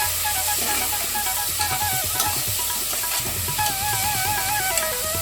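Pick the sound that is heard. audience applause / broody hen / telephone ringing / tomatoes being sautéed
tomatoes being sautéed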